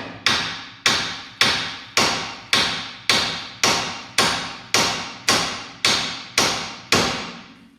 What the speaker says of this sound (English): now I have to hit that with the hammer to release the pressure because it's seized up in there.